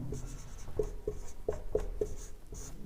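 Pen or chalk writing during a class 10 genetics lesson: quick, close scratchy strokes come in an irregular series of short taps and scrapes over a quiet room, with no talk.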